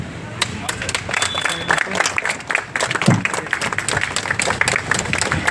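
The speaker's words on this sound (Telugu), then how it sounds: "గట్టిగా చప్పట్లు" An audience claps at a school launch event in Uppal, Ganesh Nagar, with a dense patter of many hands. The applause is steady and moderately loud, and voices are mixed in.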